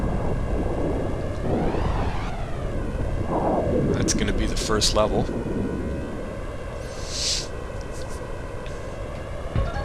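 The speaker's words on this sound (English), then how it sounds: "Pretty cool explosions there." Explosions in the Star Fox game, a low rumbling roar running through the whole stretch with a few sharp bursts in the middle, under someone talking over it.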